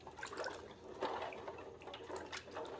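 Scored Indian gooseberries washed by hand in water before pickling, heard as faint, close sloshing and dripping with soft splashes throughout and no speech.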